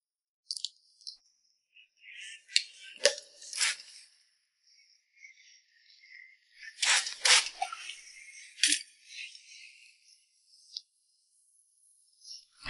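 Scissors snip hair during a haircut, quiet crisp clicks and shearing bursts in scattered clusters with silent gaps between, close and unaccompanied by talk.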